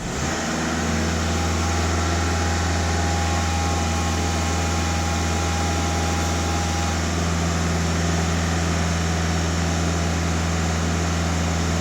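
Warm Skoda/VW TDI diesel engine idling, a steady low drone with a constant hum and faint clatter, loud and close, unchanging throughout with no voices.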